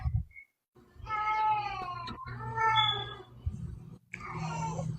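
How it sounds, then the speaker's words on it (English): A house cat meows loudly and insistently, one short cry followed by long drawn-out wailing calls that rise and fall, close to the listener, with little else heard. "My cat is screaming at me."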